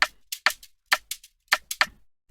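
A dry afrobeat shaker loop plays alone, crisp bright rattling hits falling in a repeating syncopated pattern of pairs, close and clear with silence between strokes.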